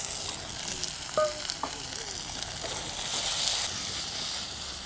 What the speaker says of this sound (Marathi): तर इथं कांदा जो आहे आपला छान असा तळला गेलेला आहे, भाजला गेलेला आहे